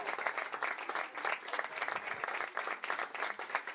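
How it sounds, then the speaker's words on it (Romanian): An audience at a Romanian Sunday event applauds after a surprise performance, with sustained, dense clapping from a crowd, fairly even in level and uninterrupted by speech. "Haideți să ne înclinăm la aplauze."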